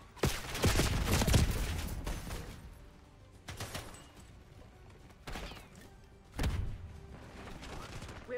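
Video game gunfire comes in loud, dense bursts: a long volley opening the scene, then shorter rattling salvos a few seconds apart, with quieter background noise between them.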